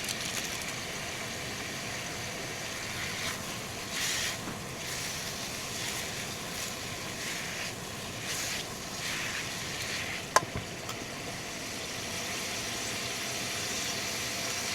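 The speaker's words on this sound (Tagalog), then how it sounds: "Habang ginigisa." Beef caldereta ingredients sautéing in a pan with seasoning, a steady broadband sizzle running evenly throughout, with one brief sharp click near the end.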